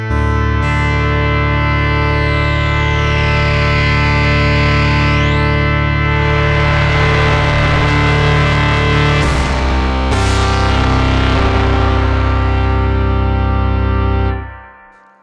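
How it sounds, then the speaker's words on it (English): A MOTOR Synth MKII plays a loud sustained tone with amplitude cross-modulation between its voices, giving raspy, metallic overtones and sweeping harmonics that shift throughout before the note cuts off near the end. "Crossmod knob applies amplitude cross modulation between the voices, providing raspy sounds or metallic overtones."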